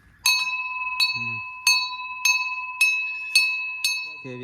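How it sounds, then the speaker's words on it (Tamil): A metal temple bell rings seven times at a steady pace, each strike clear and bright with a lingering ring, and a brief murmur between strikes, on Kondarangi hill in Dindigul. "ஒரு மணி அடி"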